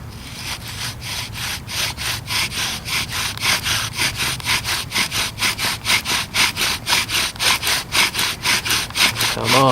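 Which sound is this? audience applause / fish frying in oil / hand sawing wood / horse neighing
hand sawing wood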